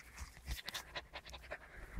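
A husky pants in quick, rhythmic breaths close by, soft but steady, outdoors beside a fox burrow.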